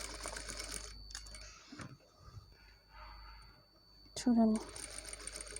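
A sewing machine stitches cloth in short bursts of rapid mechanical whirring, with pauses between runs, while someone talks over it.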